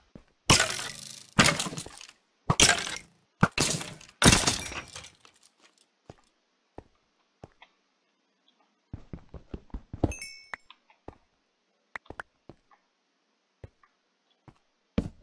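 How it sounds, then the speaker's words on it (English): Skeletons fighting in a Minecraft-style video game: a burst of rapid, sharp clattering hits at the start, then scattered lighter clicks and ticks with a short flurry of impacts midway. "Sounds like two skeletons were fighting."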